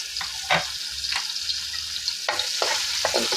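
Garlic and onion sauté in a hot pan for a cabbage and pork dish, a steady close sizzle broken by several scraping stirs of a utensil against the pan.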